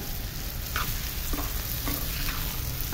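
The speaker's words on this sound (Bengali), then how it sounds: "চুলাতে দিয়ে যে মশলা দিয়ে ভালো করে নাড়াচাড়া করতেছি।" Fish turned with spices in a pan on a stove gives a loud, close, steady sizzle with repeated scraping strokes and light clinks of a spatula against the pan.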